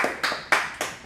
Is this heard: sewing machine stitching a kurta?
no